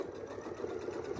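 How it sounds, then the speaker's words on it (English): A sewing machine stitches a quilt, its steady motor hum and rapid needle chatter running continuously at a low level with no pauses or talk. "we'll sew right down to the middle so we can get back to our start point"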